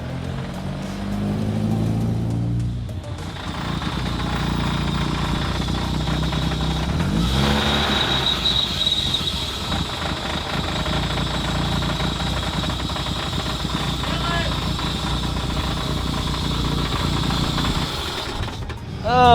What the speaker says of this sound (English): We're going to get it fired up.